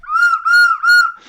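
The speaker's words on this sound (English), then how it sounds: "It's a giant kazoo." A comically large kazoo buzzes out three loud, sustained nasal tones in a row, each with a steady wavering pitch and short gaps between them, played alone without talk.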